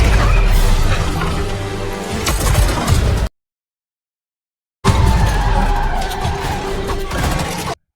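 Car tires skidding and screeching in a movie car chase: loud, harsh, sustained squeal and engine roar in two long stretches separated by a brief silence.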